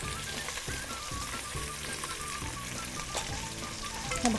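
Onions frying in hot oil with spices for jackfruit biryani, a steady crackling sizzle that continues evenly throughout, close and moderately loud.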